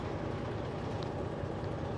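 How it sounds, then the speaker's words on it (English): A continuous low rumble of a freight train rolling past, heavy and steady with no pauses. "And now this third one I get held up by the train."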